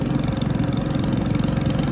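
A motorcycle engine runs close by at a steady, throbbing idle, loud and continuous with no voices over it.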